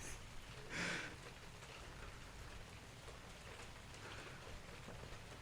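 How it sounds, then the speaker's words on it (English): Steady rain falling outdoors, a continuous soft hiss of drops on surfaces with a brief brighter burst near the start, no voices. "It's fucking raining right now, of course."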